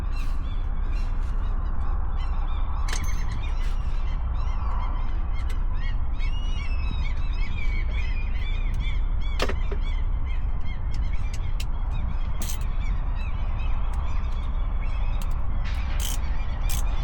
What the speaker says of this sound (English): Those seagulls are noisy. I think they're having their little rookery thing.